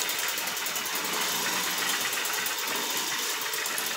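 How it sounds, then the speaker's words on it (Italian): A Piaggio Ciao moped's small two-stroke engine, running a mix of two 12/12 carburetors, idles steadily with a buzzy, rapid putter, running continuously and close by without any voices. "Ah, rimane anche acceso bene, guarda, neanche regolato il minimo."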